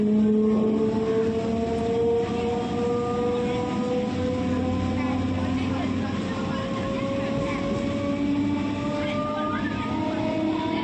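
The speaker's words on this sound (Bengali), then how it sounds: "ট্রেনে উঠে এবার আমরা যাচ্ছি নিউ গড়িয়া স্টেশন থেকে" Metro train ride from New Garia station in Kolkata, a loud steady rumble of the carriage with rising and falling motor whine tones running throughout.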